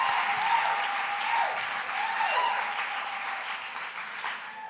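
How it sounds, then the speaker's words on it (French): A church congregation applauds during a praise service, a steady dense wash of clapping that carries on throughout, with faint sung or shouted voices drifting through. "On applaudit le roi des rois."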